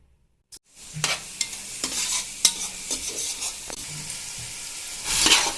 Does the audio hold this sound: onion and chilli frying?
yes